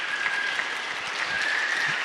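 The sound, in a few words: church congregation applauding the choir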